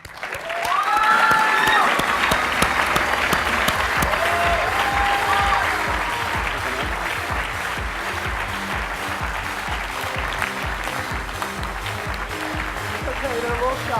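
A conference keynote audience breaks into loud applause that swells early and stays strong, while a musical tone plays alongside and a voice is faintly heard beneath the clapping.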